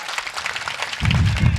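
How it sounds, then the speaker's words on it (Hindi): Audience clapping at a Hindi satire poetry recital, scattered at first and then swelling into fuller, close applause. "एक बार ताली बजाकर मुझे अनुमति दीजिए।"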